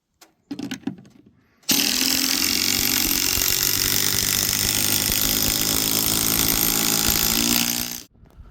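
A power driver sinks a timber screw into a patio roof's fascia board and blocking: a short stuttering whir, then one loud, continuous high-pitched grinding drive lasting several seconds before stopping abruptly.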